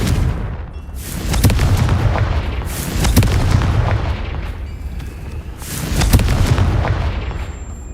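Confringo fire spells in the Hogwarts Legacy video game go off as repeated loud booming blasts, with heavy rumbling explosions swelling and fading in waves and no talk over them.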